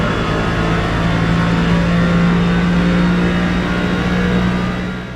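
A Mercedes-AMG GT3 race car engine in a racing video game revs hard and holds a loud, sustained drone with a steady tone, easing off slightly at the very end, with no talk over it.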